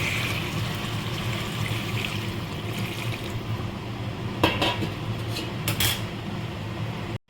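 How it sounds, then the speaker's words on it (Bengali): Hot water pours into a pressure cooker holding a home-style chicken dish, a continuous soft liquid rush with light clinks of metal on the pot rim and a few sharper knocks near the end. "গরম জল দিয়ে প্রেশারের ঢাকনাটা দিয়ে তিনটে সিটি দেবে গরম জলটা দিচ্ছি"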